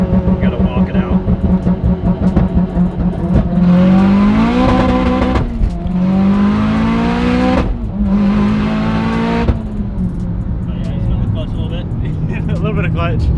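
A Subaru STI launches hard: the engine revs high, then drops as it shifts, then revs again, with tires spinning and squealing, loud and close. Between the launches it settles into a rough, rumbling idle.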